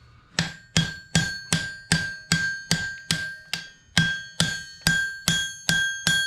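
A blacksmith hammers a horseshoe flat on an anvil. About fourteen sharp, ringing metallic blows land close by at an even, unhurried pace, each one decaying before the next, with no talking.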